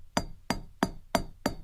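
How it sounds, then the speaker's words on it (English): A tiny acoustic hammer taps a wheel of aged cheese on a wooden shelf to check it for flaws. Five crisp, close knocks land at an even, steady rhythm with nothing else heard. "A master tester hits every single wheel with a tiny acoustic hammer to check for flaws."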